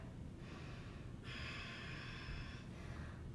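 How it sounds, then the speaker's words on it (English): Slow, deep breathing held in a vinyasa yoga pose, two soft airy breaths, the second longer and stronger, close and faint against a quiet room with no talk. "Breathing here."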